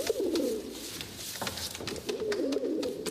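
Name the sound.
pigeons cooing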